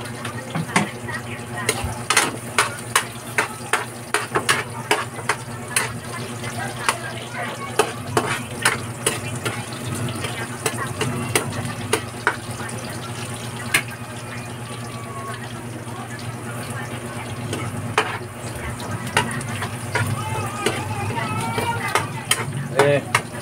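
Garlic sautés in a frying pan while pork chop steak is being cooked, a steady close sizzle with frequent clinks and scrapes of stirring throughout, with some voice in the background.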